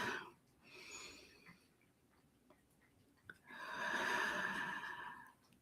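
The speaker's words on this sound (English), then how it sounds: "let's just take a breath" Breathing during a guided meditation: a soft inhale and slow exhale, then a quiet pause with faint clicks, followed by a longer, fuller breath in and release, close and gentle with no talking.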